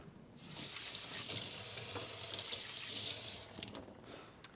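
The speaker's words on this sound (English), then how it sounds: "I'm gonna do a really quick hand wash while my fish is just sitting." Water from a kitchen tap runs steadily over hands during a quick wash, a close, even hiss lasting a few seconds before the flow stops with a few splashes.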